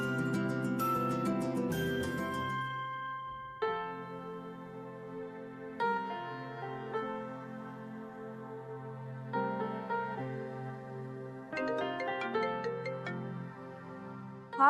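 A phone ringtone melody plays steadily through a call, sustained tonal notes shifting pitch in a few phrases, fairly clear with no voices over it.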